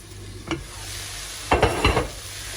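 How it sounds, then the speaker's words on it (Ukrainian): Vegetables being stirred in a pan for a baby's vegetable sauce: a steady soft sizzle with a brief utensil scrape, then a longer cluster of scraping strokes, close and with no talk. "Періодично овочі помішуємо і залишаємо знову їх, щоб вони готувалися"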